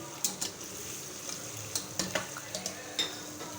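Spices for aloo matar pulao fry in a pan, a steady soft sizzle with scattered sharp ticks and scrapes of stirring throughout, no talking.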